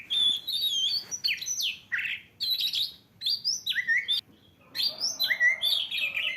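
Recorded bird chirps and tweets played back on a phone for a cat: a busy, fairly loud sequence of varied whistled calls in bursts, with a short pause midway and no talking.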